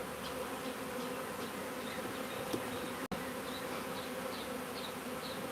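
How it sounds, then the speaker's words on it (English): Steady dense buzzing from a live honeybee swarm on a farmstead, continuous and close, with a single sharp click partway through. "Nice, lazy bees."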